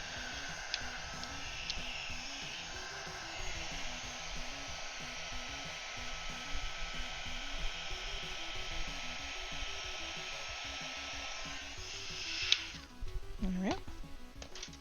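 Heat gun running with a steady, loud fan-and-heater whoosh that holds for about thirteen seconds, then cuts out with a falling whine.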